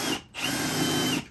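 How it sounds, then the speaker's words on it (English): A power drill whines at high speed while drilling during an Atlas Micro Jacker hydraulic jack plate install on a boat, a brief burst, a short pause, then a sustained steady run close by. "It's actually doing better than the other drill bit."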